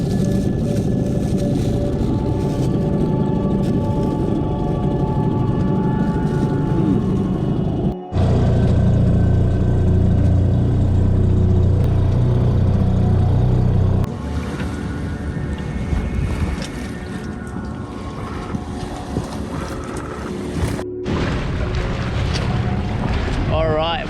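Steady engine drone from a sailboat motor sailing on open water toward a remote island, mixed with wind buffeting and water wash, with a brief cut partway through and a voice talking over parts of it.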